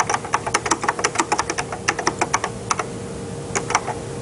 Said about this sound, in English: I can point at any place and start typing